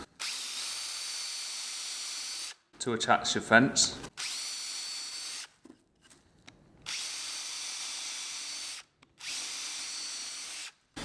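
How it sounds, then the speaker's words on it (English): A power drill whirs in a few short, uneven bursts as it drills holes in a wooden door for a mortice latch, with quiet room tone around it and a brief spoken phrase near the end. "Drill a couple of holes"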